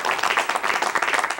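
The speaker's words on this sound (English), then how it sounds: "Round of applause." An audience bursts into applause at a Women's History Month event, a dense, loud, continuous patter of many hands clapping close by, with no talk over it.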